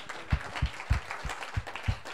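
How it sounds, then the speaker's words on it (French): A church congregation claps in a steady, loud unison rhythm, about three sharp claps per second, echoing in the sanctuary with faint voices underneath. "Allez-y, allez-y, applaudissez le Seigneur."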